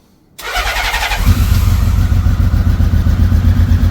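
A Honda Valkyrie motorcycle, unstarted for two years, cranks briefly on full choke and catches, then settles into a loud, close, steady rumbling idle.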